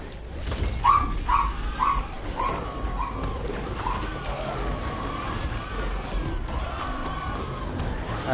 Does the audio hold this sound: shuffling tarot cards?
no